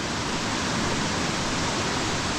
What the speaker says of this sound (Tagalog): Kaya lang sabay laki ang tubig oh. Laki galing sa bundok.